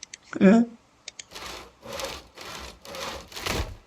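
Rhythmic back-and-forth sawing strokes in the video game Project Zomboid, about five of them, steady and close, preceded by a brief voice-like burst and a few clicks.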